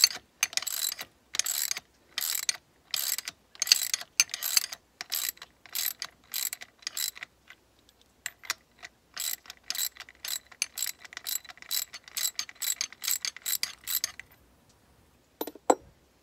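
A ratchet wrench loosens a bolt on a Mini Cooper S R56 suspension during a camber plate install, giving close, crisp bursts of rapid clicking that repeat in short strokes with brief pauses between them.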